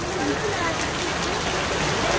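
Steady heavy monsoon-style downpour hisses without a break on a road near Chandanwala village, India, a dense wash of falling water close by.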